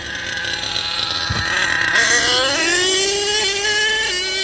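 An HPI Savage RC nitro truck with a 3-speed gearbox runs right after a pull-start, loud and close. Its high engine whine revs up and climbs steadily in pitch, then holds at a buzzing drone.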